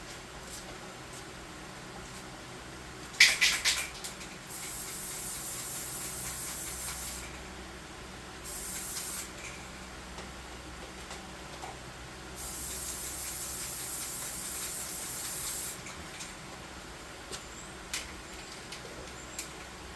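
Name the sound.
spray can applying clear coat to model terrain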